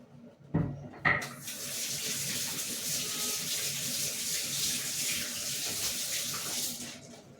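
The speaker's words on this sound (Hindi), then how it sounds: "और अभी मैं धो लेती हूँ हाथ।" Hands being washed under a running tap at a kitchen sink after making rotis, a steady close rush of water lasting several seconds, preceded by two brief clunks.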